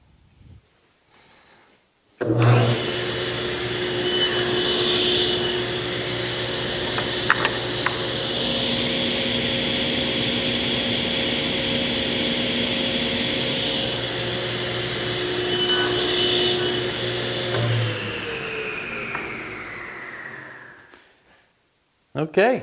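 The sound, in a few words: table saw cutting wood pieces on a sled jig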